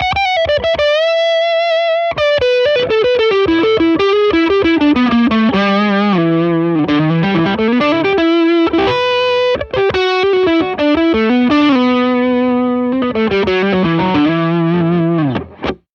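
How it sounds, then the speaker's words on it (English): Electric guitar through the overdrive on a blues pedalboard, playing a long, loud, sustained lead line with bends and ringing chords, alone and continuous. "And that's that regular overdrive."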